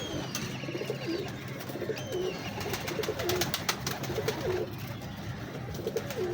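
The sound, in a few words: pigeons cooing at a pigeon show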